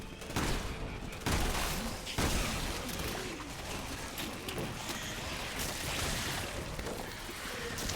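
Gunfire in Resident Evil 6 as enemies swarm: a few sharp loud shot bursts early on, then a dense continuous clatter of combat noise, with no talk over it.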